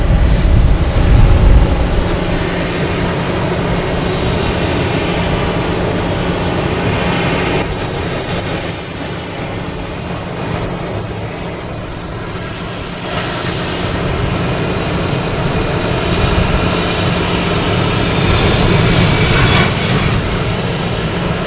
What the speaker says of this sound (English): the planes aren't getting a good lift out of here, so that one's a really low one